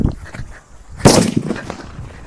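A Diwali firecracker bursts at close range with one loud sharp crack midway through the clip, followed by a short rattling tail and preceded by low rumbling handling noise.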